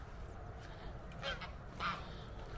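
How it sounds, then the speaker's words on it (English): A white goose by a park lake gives two short honks a moment apart, fairly faint and distant over steady outdoor background noise. "You got a nice white goose there."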